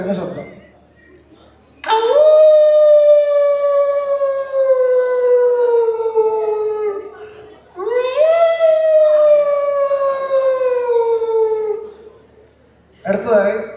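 A performer at a college arts-day mimicry show imitates a fox howling with his voice: two long, loud, wavering howls, each rising sharply then sliding slowly downward, separated by a brief pause.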